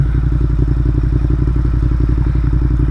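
A Ducati Monster 1200S rumbles steadily over a rough, broken driveway, its deep engine drone loud and continuous with faint clattering and jolts riding on top.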